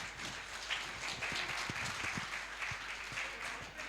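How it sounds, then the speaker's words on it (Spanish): Congregation applauding during a church sermon, a soft, steady patter of many hands heard from a distance, fairly faint, with a few low thuds underneath. "Dale un fuerte aplauso al Señor."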